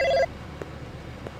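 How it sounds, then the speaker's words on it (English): A telephone rings in the Blade Runner video game: a short electronic ring burst opens the clip, then it cuts to a quiet, faintly humming room. "the phone's ringing off the hook, so let's answer the phone"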